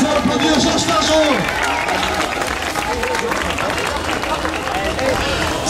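A crowd applauding Georges Fargeon at an outdoor presentation of a festival queen, sustained dense clapping with some cheering and a voice over a loudspeaker talking through it.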